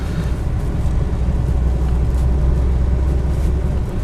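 A 1989 Wartburg 1.3 car drives along with a steady, loud low engine drone that holds evenly throughout, with no clear gear change standing out.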